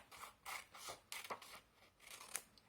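Fabric for a skirt waistband is snipped with scissors in a series of soft, close crunching cuts, about five or six strokes spaced unevenly, with no one talking.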